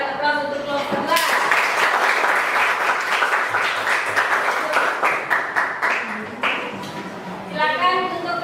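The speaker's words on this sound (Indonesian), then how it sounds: "silakan berikan aplaus untuk kelompok 2" A classroom of students gives group 2 a round of applause, dense clapping that swells to a loud steady burst for about six seconds and then fades, with a teacher talking before and after.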